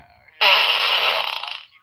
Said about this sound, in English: I've got a fart button.